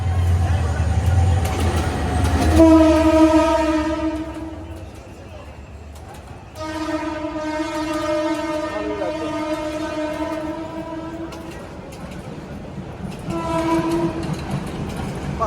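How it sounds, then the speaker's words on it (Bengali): A passenger train passes close by on a double-track line beside a wholesale fish market, with loud sustained horn blasts over rumbling wheels and clatter, and people talking in the background. "ট্রেন যাচ্ছে সামনে দিয়ে।"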